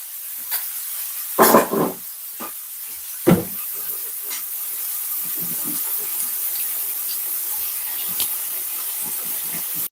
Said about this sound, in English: Let's get some hot water.